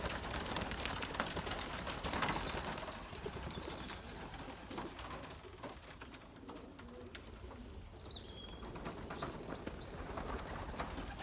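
Young Belgian racing pigeons at their loft during training give soft, repeated coos over a dense, steady background, with higher chirping calls toward the end.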